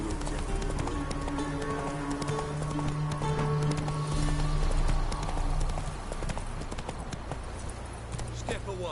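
Roach the horse gallops in The Witcher game, steady rapid hoofbeats drumming close and clear throughout, with voices talking over the running and background music underneath.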